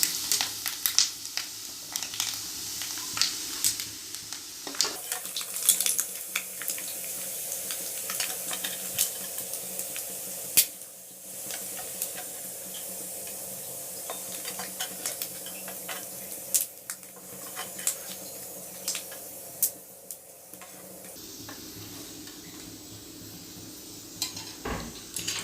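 Prawns frying in hot oil for prawn pickle give a soft, steady sizzle throughout, joined by clinks and scrapes of a utensil against the pan, with no talking.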